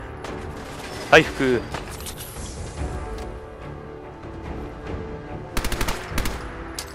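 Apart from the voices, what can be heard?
gunfire in a shootout, from the video game Fallout 4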